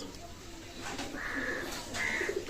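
Faint, soft cooing from a pair of young Oman-bloodline pigeons at a pigeon sale, a few short calls rising over a low, noisy background.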